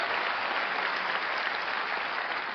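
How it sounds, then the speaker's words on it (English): An audience at the 97th Academy Awards ceremony bursts into steady, dense applause that holds at an even level throughout, with no voices standing out. "you better applaud for that"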